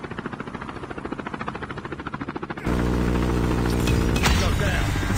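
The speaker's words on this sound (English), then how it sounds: "Deployed chopper gunner." Chopper gunner helicopter in the Call of Duty Mobile video game: a rapid, rhythmic rotor thumping gives way abruptly to a loud, steady engine roar with whirring mechanical noise.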